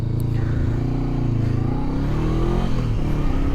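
A 2024 Honda CB500 Hornet motorcycle brakes hard with its combined front and rear braking, its engine note dropping steadily under a loud continuous rumble of engine and wind.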